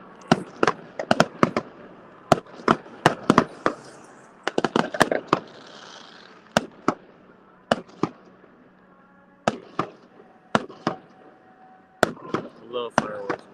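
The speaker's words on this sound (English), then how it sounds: "Watch the fireworks." A fireworks show crackles with scattered sharp bangs and pops, some in quick clusters and others spaced apart, moderately distant, with faint voices between bursts.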